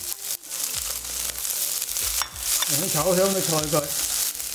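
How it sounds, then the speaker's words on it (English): Onion and cabbage stir fried in a wok for chicken chow mein, a busy close sizzle with tossing and scraping, while a tonal musical sound rises and wavers over the frying partway through. "We'll first stir fry the onion and cabbage for about 20 to 30 seconds"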